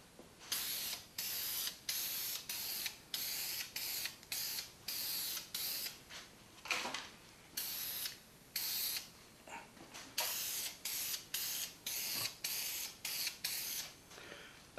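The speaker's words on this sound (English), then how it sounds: "I'm going to use spray lacquer here, just real quick." Lacquer sprays from an aerosol can onto a wooden router bowl in a rapid series of short hissing bursts, each about half a second, close to the microphone and with brief pauses between them.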